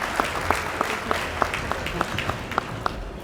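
Audience applause at a scholarship jazz brunch held by the Louisiana Legislative Black Caucus for the 2023 Bayou Classic, a steady patter of clapping from a seated crowd, moderately loud and continuous with scattered sharper claps.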